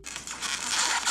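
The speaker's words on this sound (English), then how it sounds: "This pen tube makes a really cool sound." A plastic pen tube is handled close up, giving a short bright rattling, crinkly scrape that swells and fades over about a second, with no voices.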